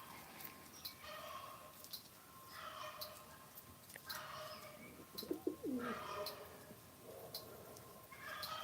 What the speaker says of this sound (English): Pigeons going crazy.